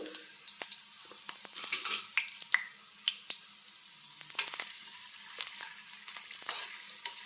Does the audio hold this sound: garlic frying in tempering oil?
yes